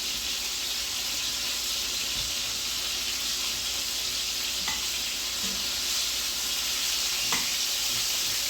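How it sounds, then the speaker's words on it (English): Chicken pieces sizzle and fry steadily in a skillet, a continuous bright crackling hiss close by with a few soft stirring clinks and no voices. "I'm just using this skillet here just to cook the chicken"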